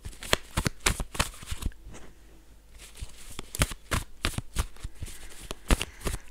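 Tarot cards shuffled close up in a steady run of sharp riffling bursts, with a short quieter gap partway through and no talking.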